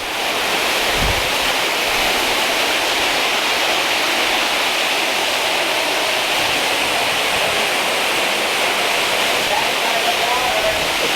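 A giant waterfall along a walking trail at Epcot roars as a steady, loud wash of falling water, continuous and close, with a voice speaking briefly over it.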